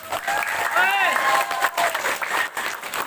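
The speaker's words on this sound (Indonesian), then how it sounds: "Tepuk tangan untuk para panitia." An audience applauds the organizers at an evening Islamic boarding school gathering, a sustained wash of clapping with a voice and whistle-like tones rising over it.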